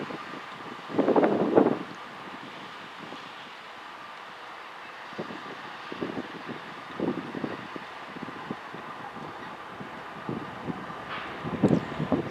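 A Norfolk Southern Railway heritage-unit locomotive trails in a train at Enola, Pennsylvania, heard as a faint, distant rumble under wind noise, with a few louder rushes and rattles near the start and end.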